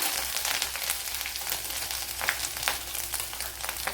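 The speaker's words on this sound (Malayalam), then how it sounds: "ഇനി ഇതിലേക്ക് കടുക് ഇട്ട് കൊടുക്കാം അതുപോലെ വെളുത്തുള്ളി ഇഞ്ചി ചതച്ചത് ഇട്ട് കൊടുക്കാം" Mustard seeds with crushed garlic and ginger frying in hot oil in a Kerala home kitchen, a dense close crackle with scattered sharp pops and spits over continuous sizzling.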